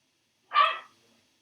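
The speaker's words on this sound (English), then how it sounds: "my dogs are playing, sorry about their screaming noises" A single short, sharp bark or yelp from a playing dog, a loud close burst lasting about half a second before quickly dying away, with no talk over it.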